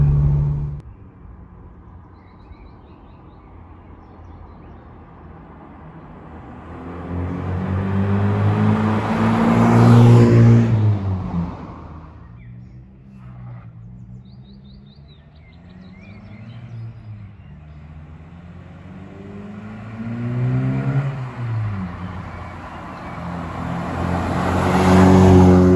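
A Mk1 Ford Fiesta 1300S engine while driving, a steady car drone that swells twice, rising in pitch as it accelerates around ten and again near twenty-five seconds, with no talk over it.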